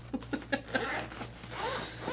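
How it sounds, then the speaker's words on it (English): A backpack zipper being pulled open in a few quick rasping strokes, close and clear, followed by a longer drawn-out zip. "wrong zipper, so many zippers."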